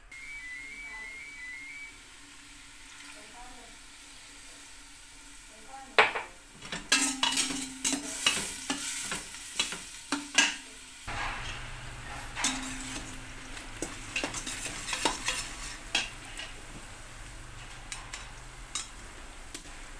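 Ingredients for a green bean stew sautéed in a pot: a faint background whistle gives way to clattering spoon scrapes and knocks against the pot over a low sizzle, irregular and close.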